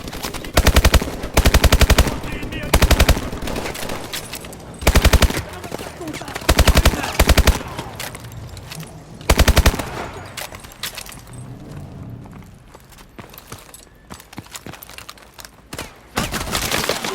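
Automatic weapon gunfire in the video game Call of Duty Advanced Warfare, several sharp loud bursts of rapid fire spaced a second or two apart, with quieter game sounds between them.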